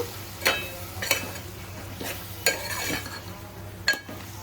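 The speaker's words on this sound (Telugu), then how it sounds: "టమాటాలు వేసుకుని ఒకసారి కలిపేసుకుంటున్నాను నేను" A spoon clinks and scrapes through tomatoes in a cooking pan for a potato and egg curry, giving a few separate stirring knocks against the metal over a low, steady background.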